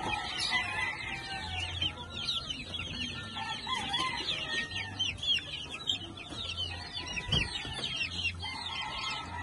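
Chicks and chickens on a farm, a busy mix of clucks, peeps and chirps with a rooster crowing partway through, moderately near, continuous and without voices.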